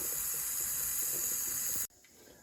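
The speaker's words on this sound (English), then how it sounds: "So this is about the typical air output." A steady, loud hiss of air venting from a Nesco pressure canner runs continuously, then cuts off abruptly near the end, leaving quiet background.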